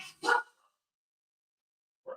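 A couple of short dog barks sound indoors at close range, one right at the start and another isolated one about two seconds later, with silence in between.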